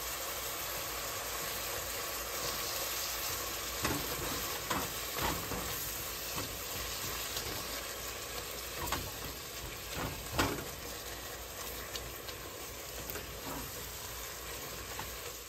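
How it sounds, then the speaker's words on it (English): Ground meat browns in a pot with a low, steady sizzle, and scrapes and knocks from stirring come through now and then; it is fairly faint, and no one speaks. "I'm gonna go ahead and brown this meat up"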